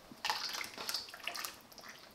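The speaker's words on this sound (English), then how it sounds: "pour in that whole tin of light coconut milk" Light coconut milk poured from a whole tin into a pot of pumpkin and coconut soup, a soft, close liquid splashing and glugging that runs steadily for about two seconds with no talking.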